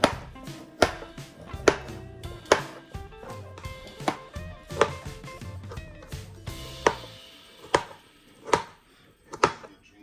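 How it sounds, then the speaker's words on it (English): A knife chops a carrot into chunks on a cutting board for potato salad, giving a series of sharp, close knocks at an uneven, unhurried pace with short pauses between strokes. "Then cut your carrot into chunks too"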